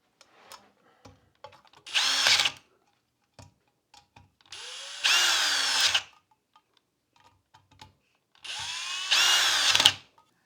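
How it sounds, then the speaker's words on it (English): A power drill whirs in three separate bursts of about a second each, spaced a few seconds apart, during ceiling fan installation, with small clicks and handling noises between the runs and no talking. "The drill."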